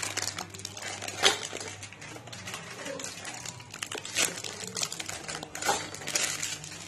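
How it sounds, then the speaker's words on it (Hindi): Crinkly plastic biscuit packets being torn and pulled open up close, with rustling and sharp crackles in uneven bursts, no voices. "तो यहाँ हम सारे पैकेट को खोल लेते हैं"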